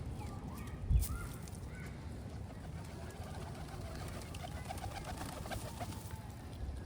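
Pigeons coo softly and repeatedly at close range over a steady low outdoor rumble, with a brief thump near the start.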